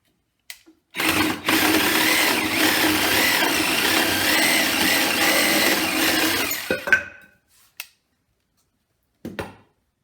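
A power tool cuts material clamped in a vise for a homemade weapon rack, a loud, close whining buzz running about six seconds, followed by a few short clunks and knocks.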